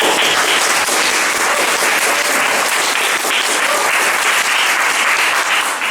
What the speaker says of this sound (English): Applause if you think so, don't applause if you don't.